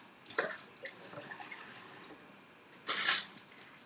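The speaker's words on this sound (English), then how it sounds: "just going to put a tiny bit of water, literally half a cup, put it on the hob" Half a cup of water is poured into a pan on a kitchen hob for cooking baby sweet corn, heard as faint splashes and drips with a short, brighter gush near the end.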